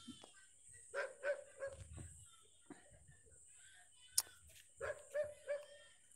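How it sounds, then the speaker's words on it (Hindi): Dogs barking outdoors in the background behind a gurukul talk, several short bursts of barks in two clusters, moderately distant and fairly faint, with a steady high tone running underneath. "पीछे कुत्ते भी भौंक रहे हैं"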